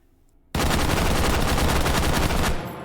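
H51 rifle fitted with a muzzle brake, fired in the game H3VR: a sudden, loud burst of rapid automatic fire hammering for about two seconds, then cutting off into a fading echo.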